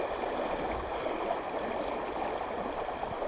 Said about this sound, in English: As you can see, this river is moving along pretty good.